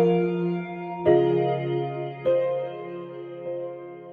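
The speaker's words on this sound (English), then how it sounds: "So here I have this dreamy keys loop which we're going to be turning into a riser sound," Dreamy keys loop playing in Ableton Live, soft sustained chords with three distinct chord changes, moderately quiet and heard alone.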